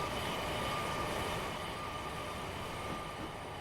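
A Class 700 Thameslink electric train in Train Simulator Classic runs through Hendon station, heard as a steady loud rumble of wheels and motor with a faint whine, continuous and unvarying throughout.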